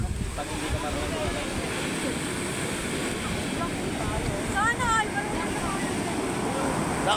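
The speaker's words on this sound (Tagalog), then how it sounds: "Grabing alon, lakas eh." Strong sea waves break and churn along a black-sand beach in Batangas, a dense continuous roar of surf under wind, with people talking and calling out faintly at a distance.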